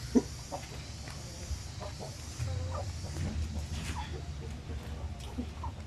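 Black Australorp chickens kept alongside native chickens clucking softly amid farmyard background noise, low and continuous with occasional brief calls.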